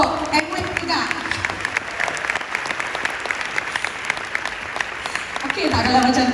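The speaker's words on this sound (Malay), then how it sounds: "Satu tepukan untuk Amway juga." An audience at a motivational business talk applauds Amway with dense, steady clapping that fills the room continuously, with voices audible underneath and rising slightly at the end.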